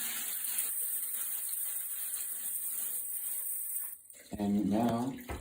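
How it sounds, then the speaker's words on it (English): Running tap water rinses an Ilizarov external fixator, a steady close hiss that flows for several seconds, then stops as a voice briefly speaks. "we clean it very, very good with water,"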